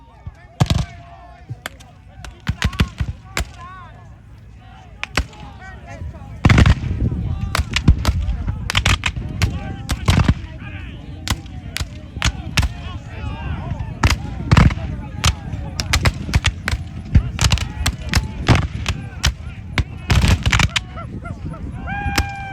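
Sharp black powder musket shots crack repeatedly at irregular intervals, joined by heavier booming cannon blasts, with distant voices and shouting between volleys, at a Battle of Cedar Creek reenactment in Middletown, Virginia.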